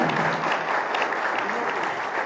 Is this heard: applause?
yes